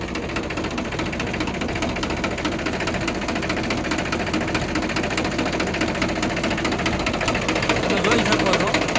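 A Mahindra 275 tractor engine, freshly overhauled, runs steadily at idle with a dense mechanical knocking chatter, loud and close throughout, with someone talking over it.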